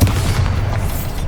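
A Bombarda spell explodes in the Hogwarts Legacy video game, a sustained low booming rumble that stays loud and steady throughout, with no speech over it.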